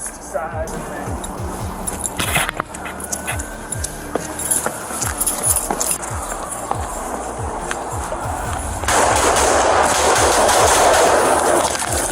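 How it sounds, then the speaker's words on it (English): Gunfire from a police shootout at a bank branch, heard as a series of sharp, echoing bangs spread through the scene while a voice talks over them and the noise thickens toward the end. "Bullets echoed from both sides."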